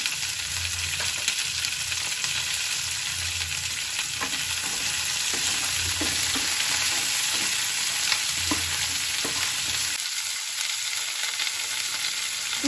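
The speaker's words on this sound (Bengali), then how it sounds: "ক্যাপসিকাম, রেড বেল পেপারটা দিয়ে দিলাম, দিয়ে এগুলো একটু হালকা করে ভেজে নেব।" Capsicum and red bell pepper sizzling in oil in a pan, a steady bright hiss with occasional stirring scrapes and light clatter, continuous throughout, then quieting briefly near the end.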